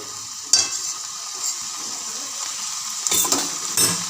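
Broccoli curry sizzles steadily in a pan as it is stir-fried, with a spatula scraping and stirring in a few short louder bursts over a constant frying hiss; no talking.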